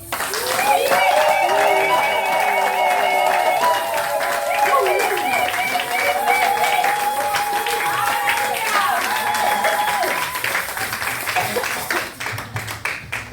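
Church congregation acclaiming God with loud cheers, clapping and joyful shouting, with sustained voices and melodic cries over steady applause that fades toward the end.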